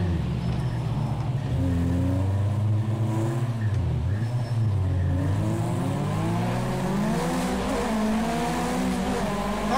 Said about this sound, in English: Car sounds awesome though